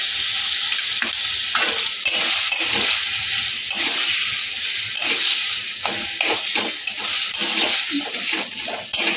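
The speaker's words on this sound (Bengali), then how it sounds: "আর দিয়ে দেবো চিংড়ি" Prawns are tossed into a frying pan with cooked taro leaves and stirred, a close sizzling hiss punctuated by repeated scraping and clattering strokes of the spoon.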